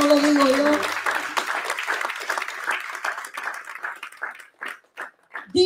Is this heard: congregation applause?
yes